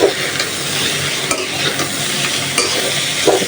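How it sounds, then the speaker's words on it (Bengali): Bitter gourd (karela) frying in hot oil in a home kitchen pan, a steady close sizzle broken by scraping stirs and soft utensil clinks against the pan throughout. "এখন করলা ভাজি বসিয়ে দিচ্ছি"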